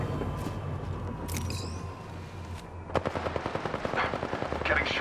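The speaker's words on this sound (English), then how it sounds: "Getting shot at." Rapid automatic gunfire in the shooter game Apex Legends, a fast rhythmic string of sharp shots after quieter, scattered sounds, fairly close and loud.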